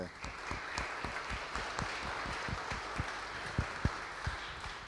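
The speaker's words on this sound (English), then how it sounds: "a nice round of applause for the speakers and the organizers" An audience applauds speakers and organizers in a large university hall, many hands clapping in a quick, uneven patter that sounds somewhat distant and soft in the roomy space.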